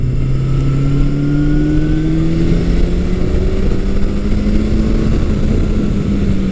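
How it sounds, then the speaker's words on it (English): A vintage Suzuki GS750 or GS1100 motorcycle engine revs steadily and loudly, its pitch climbing gradually through the rise in RPM, with no talk over the continuous drone. "if you want to really get into the power, you have to rev it up more"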